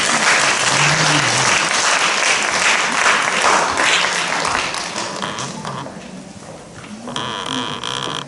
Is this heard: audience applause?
yes